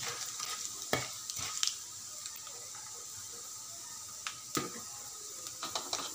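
Cumin, mustard seeds, chilli and urad dal temper in hot oil with a soft, constant sizzle and occasional sharp stirring clicks from a spoon.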